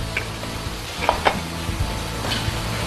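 Colourful vegetables sizzle and hiss in a hot pan while being stirred for a Malaysian mihun dish, with soft scraping clinks from the utensil against the pan.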